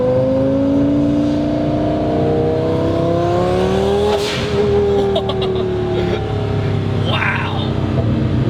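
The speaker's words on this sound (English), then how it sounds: "I've lowered the windows so you guys can really hear the car." A 1200 HP twin-turbo Lamborghini Gallardo engine heard from inside the cabin with the windows down, a loud rising harmonic drone climbing steadily in pitch as it accelerates, then a sharp burst and shift before the revs build again.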